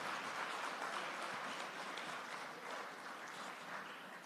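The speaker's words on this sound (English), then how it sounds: "Put your hands together for him." Steady audience applause at a national security cyber conference, a dense continuous wash of many hands clapping at a moderate, slightly distant level with no talk over it.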